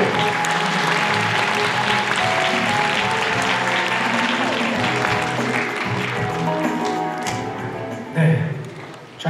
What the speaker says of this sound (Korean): 안찬일 상임의장님 나오실 때 큰 박수로